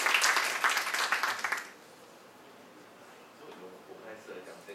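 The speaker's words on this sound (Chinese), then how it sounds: "我们掌声欢迎一下谢老师" An audience at an open-source education discussion session claps in a short burst of applause that dies away after under two seconds, followed by quiet room sound.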